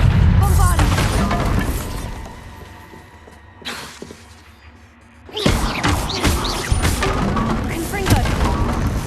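A Bombarda spell explodes in Hogwarts Legacy with heavy booming crashes and thuds, a loud burst at the start, a lull with a single hit, then a fresh surge of smashing impacts, with talking mixed in.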